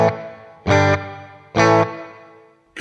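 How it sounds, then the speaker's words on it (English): A guitar through the room reverb of a Sonicake Pocketmaster pedal: two strummed chords ring out with short reflections and a decaying tail, loud and alone, with a third strum starting at the end. "Couple of reflection sort of bouncing off walls in there as well, which is really nice for a room reverb."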